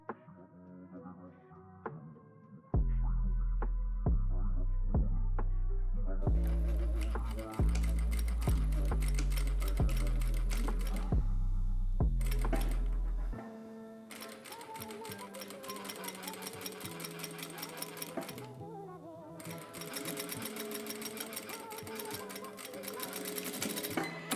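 A sewing machine stitches the two front panels of a pair of trousers together in bursts of rapid, rhythmic needle hammering, close and loud, with short pauses between runs.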